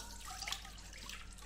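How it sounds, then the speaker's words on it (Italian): Milk pours into a stand mixer bowl, a faint soft trickle with a few small splashy drips, heard alone without speech. "inizia a versare 225 grammi di latte"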